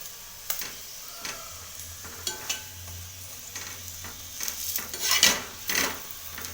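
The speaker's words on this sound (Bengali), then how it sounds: "এই এবার এইভাবে তেল দিয়ে আস্তে আস্তে করে ভেজে নিতে হবে একটু বেশিক্ষণ ধরে ভাজবে লো ফ্লেমে" A cauliflower paratha fries in oil on low flame with a soft steady sizzle, broken by scattered clinks and scrapes of a utensil against the pan, closest and busiest near the end.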